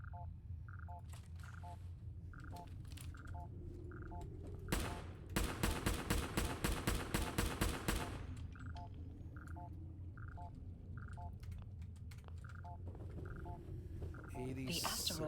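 Assault rifle fire in the Rust video game: a sustained burst of rapid, evenly spaced shots lasting about three seconds, set against quieter background game sounds with repeating electronic beeps before and after.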